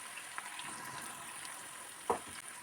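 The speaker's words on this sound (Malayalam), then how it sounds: "സവാളയെല്ലാം ഇതുപോലെ ഫ്രൈ ചെയ്തെടുക്കണം" Onions frying in hot oil for chicken chukka, a soft continuous sizzle with a few sharper crackles and a brief spoon stir, close and fairly quiet, no voices.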